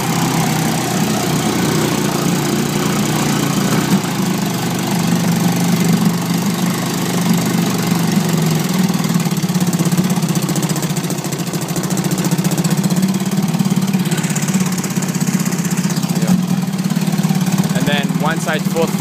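A 1972 Johnson 25hp outboard motor running a little above idle, a loud, steady, close engine drone throughout with someone talking over it at times.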